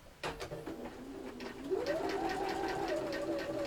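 Sewing machine stitching felt, a close mechanical whirr with rapid repeated needle clatter that starts abruptly and rises in pitch as it speeds up, running steadily to the end.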